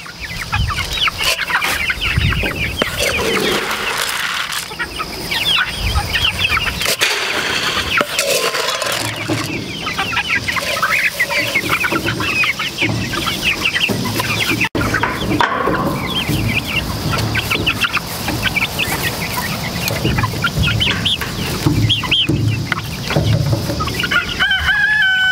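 A flock of Golden Comet hens in a chicken tractor keeps up constant loud clucking and squawking, with crowing calls rising out of the noisy, overlapping chorus up close and no talk.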